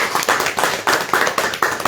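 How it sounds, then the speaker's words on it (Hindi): A small group at a party headquarters meeting claps in welcome, loud close handclaps in quick bursts with a slightly uneven rhythm over about two seconds, no voices. "तालियों से इनका स्वागत करें।"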